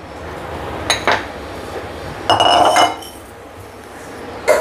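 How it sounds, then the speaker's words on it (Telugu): A spoon clinks and scrapes in a bowl while ground soapnut, shikakai, amla and flax seed powders are mixed, giving a few close, sharp metallic taps separated by quiet gaps. "ఇవన్నీ కలిపి ఒక బౌల్లో వేసి మిక్స్ చేసుకుందాం."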